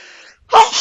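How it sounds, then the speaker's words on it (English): A single loud, close sneeze bursts out after a short pause, preceded by a faint voice or background sound during a Shovel Knight play session. "1 second, I need to sneeze."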